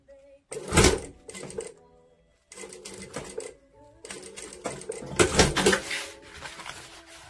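Sewing machine stitching a zipper onto a drawstring eco bag made of waterproof tarp fabric, running in several loud bursts of rapid mechanical whirring separated by short pauses.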